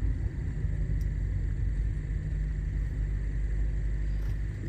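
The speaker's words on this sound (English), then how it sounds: "So the gas engine is running." The gas engine of a 2016 Ford Fusion Energi hybrid idles at a stop as a low, steady rumble inside the cabin, constant and fairly quiet, with no talk.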